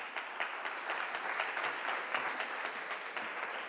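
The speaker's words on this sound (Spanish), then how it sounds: "Aplaudilo." An audience at a participatory democracy workshop breaks into steady, dense applause that holds at even loudness throughout, with no voices over it.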